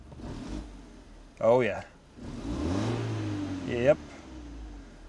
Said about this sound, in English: So the engine starts just fine. Now let's give it some gas.